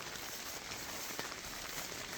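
A rain shower falls in an apple orchard of Hongro apple trees, giving a constant broadband hiss with occasional faint drop ticks, even and unbroken throughout with no voices.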